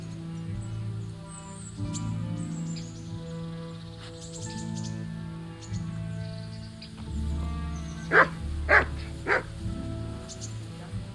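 Mutt the dog from Kingdom Come: Deliverance barks in a few quick, loud yips near the end over a low ambient game score, with birds chirping faintly.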